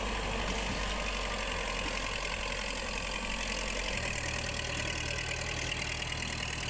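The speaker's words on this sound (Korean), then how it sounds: "지뢰지대인 이곳, 콩을 심기 위해 트랙터 작업이 진행 중이다." A tractor engine works steadily in a minefield field being planted with beans, a loud, continuous mid-to-low rumble that holds throughout with no voices.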